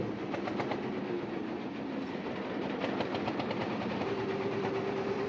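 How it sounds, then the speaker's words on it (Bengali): A trawler boat engine drones steadily with a low, continuous hum and faint rhythmic clatter on a small canal off the Payra River near Taltali, Bangladesh, no voices present. "তালতলি উপজেলা সদরে আমাদের ট্রলারটি ছেড়ে দিল"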